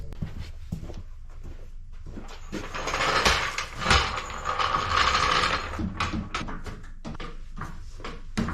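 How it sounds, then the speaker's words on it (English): Mechanical ratcheting and clanking from a jack raising the front end of a Toyota RAV4 in a garage, steady rhythmic clicks building to a denser, louder stretch in the middle, with no talking. "So the first thing we're gonna do is jack up the front end of this vehicle"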